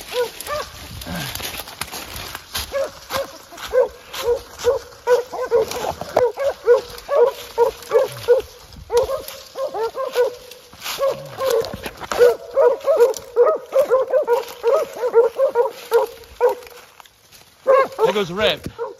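Hunting dogs in a field trial bark repeatedly in dense, rhythmic bursts through most of the stretch, close and loud, with brief pauses and someone speaking at times over the barking.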